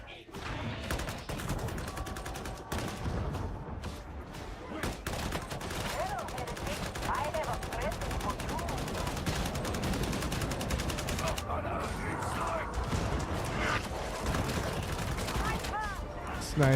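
Gunfire in a video game, dense overlapping shots and bursts crackling continuously, loud and busy, with a voice talking amid the shooting.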